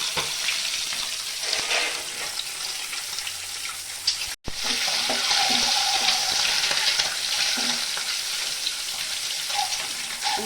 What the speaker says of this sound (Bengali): ডিমটা লাল করে ভেজে নেব